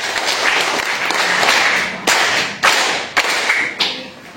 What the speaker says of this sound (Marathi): अरे वा, वेदांसाठी टाळ्या वाजवायच्या